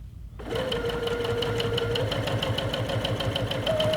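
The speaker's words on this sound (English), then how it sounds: "Stitching. Look at this, I'm on a chain piece, folks." Sewing machine stitching chain-pieced quilting cotton with 50 weight Aurifil thread, starting abruptly and running as a steady, close, continuous mechanical hum with rapid needle clatter throughout.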